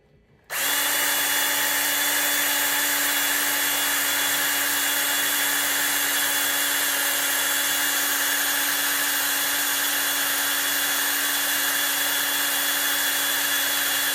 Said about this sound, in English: I need to keep drilling.